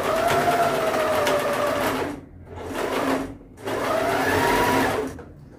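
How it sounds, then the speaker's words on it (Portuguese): A domestic sewing machine runs in three sustained bursts of steady whirring stitches, pausing briefly between runs, while sewing knit trousers; loud and close with no talking. "eu não uso muito essa máquina, porque eu acho que a minha tem algum problema de fábrica."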